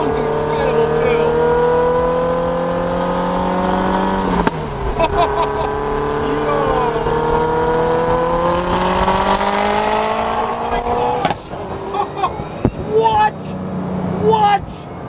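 An SSC Tuatara supercar accelerating at partial throttle: a loud, rising multi-toned engine roar climbs steadily, shifts, and climbs again, then breaks up into crackles and revs near the end, with people talking over it.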